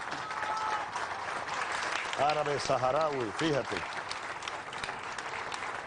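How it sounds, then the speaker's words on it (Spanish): Audience applause for a young Sahrawi man at a gathering, steady clapping throughout under someone speaking clearly in the middle of the clip. "un aplauso para este joven"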